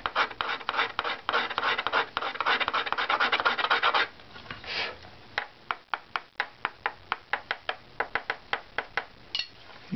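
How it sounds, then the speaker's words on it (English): Hand scraper working across a metal surface plate, first a fast run of rasping strokes, then slower, evenly spaced sharp scrapes, close and crisp. "Again, I'm supporting on the area I'm scraping."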